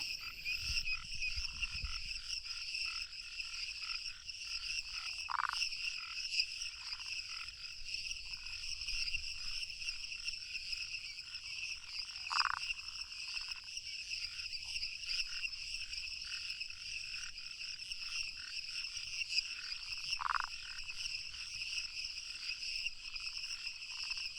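Rana monito frogs call from the branches at a lagoon's edge in Uruguay, giving faint, widely spaced croaks over a constant high, shrill hum of night insects.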